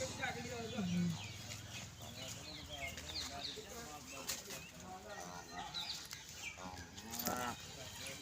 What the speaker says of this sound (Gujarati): જુઓ બધી ગાયો મસ્ત મસ્ત છે।